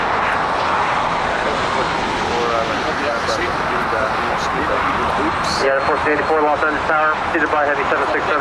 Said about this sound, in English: heavy 767, touching down, caution wake turbulence